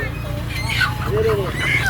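Turkeys and ducks for sale at a Lao morning market in Savannakhet give brief honking, squawking calls over a constant busy hum of market noise and nearby voices.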